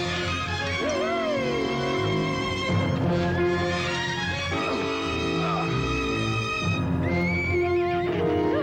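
A horse whinnies repeatedly over a busy, continuous background, its high wavering neighs rising and falling across the scene.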